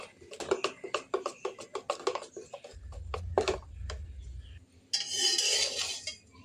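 A spoon stirs beetroot juice into appam batter in a bowl, giving a run of quick, light clinks and scrapes against the dish, then a softer, rougher swirl toward the end.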